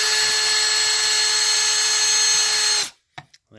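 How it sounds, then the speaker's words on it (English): A power drill pre-drills screw holes in a closet wall for a rod, giving a loud, close, steady high whine that runs for nearly three seconds, stops abruptly, and is followed by a couple of short clunks. "I'm gonna pre-drill here just to avoid splitting"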